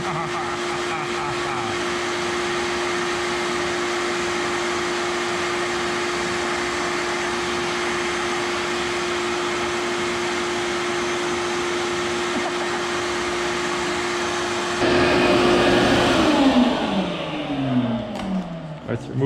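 A workshop vacuum cleaner pulls string through electrical conduit, a loud steady motor roar with a fixed whine that runs unbroken, then rises in pitch and strain before winding down near the end.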